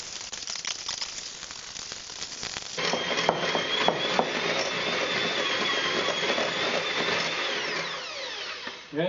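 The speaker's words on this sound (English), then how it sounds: "Then we're supposed to whiz it together, I think. Yeah, beat it together," An electric mixer beats white chocolate cake batter in a loud, steady whir that climbs in intensity after a few seconds and keeps churning without a break, with no talking over it.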